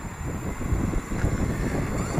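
Steady wind buffets the microphone in low rumbling gusts, continuous and fairly loud throughout, with no voices, outdoors while flying a Hubsan 502E GPS drone.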